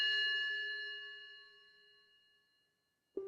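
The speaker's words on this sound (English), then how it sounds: "just sound of a bell on a loop with a little bit of a rhythm" A single clear bell strike rings out and slowly decays over a few seconds, followed by the start of another strike at the end.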